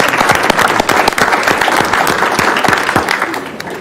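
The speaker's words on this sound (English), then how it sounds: "please join me in giving a round of applause to those organizations and the people who are supporting them" Audience at a county commissioners' business meeting gives a loud round of applause, dense continuous clapping from a nearby crowd that holds steady, then tapers slightly at the end.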